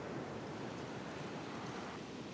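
Ocean waves washing onto a beach near a cottage, a steady broad rushing wash with some wind noise, continuous and fairly faint with no speech.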